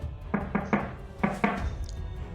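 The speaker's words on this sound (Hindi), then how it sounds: "किसी ने मेरा दरवाज़ा नॉक किया।" A door is knocked on in two quick groups of raps, three then two, sharp and fairly close in a quiet room.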